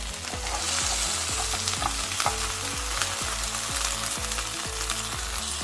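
A folded kobeda kebab taco fries in a pan until crispy, with a loud, continuous close sizzle and crackle and occasional scraping stirs.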